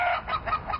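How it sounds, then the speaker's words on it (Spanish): Chickens on a farm where turkeys are also raised, clucking loudly and close in a short burst of repeated calls with no talking. "En la granja también se crían pavos y pollos."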